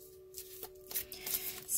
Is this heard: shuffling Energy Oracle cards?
yes